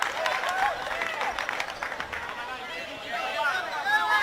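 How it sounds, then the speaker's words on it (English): Crowd at a women's football match, NPL Women Eastern Suburbs vs. Lions FC, clapping in a steady mid-level wash of applause and murmur, broad and diffuse throughout with a slight swell near the end. "Some applause from the crowd for the efforts there by Emma Gibbon"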